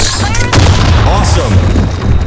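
A grenade going off in the shooter game Blackshot, a loud booming blast that fills the mix with a sharp onset and dense rumble, while a voice speaks over the game audio.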